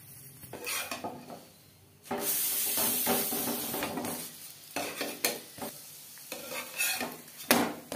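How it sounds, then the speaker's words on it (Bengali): Cauliflower paratha frying on a pan in butter and oil, with a loud steady sizzle in the middle and scraping, clattering turns of a spatula against the pan before and after. "উল্টে পাল্টে পরোটা বেশ ভালো করে ভাজা হয়ে গেছে।"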